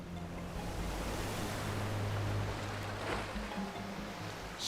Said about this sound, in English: Rogue waves come out of nowhere.